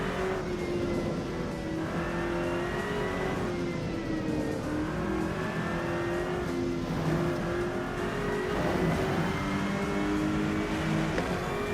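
A race car engine in the Rennsport racing game drones and revs continuously, its pitch climbing and dropping through gear changes as the car works through a technical section of track, loud and unbroken.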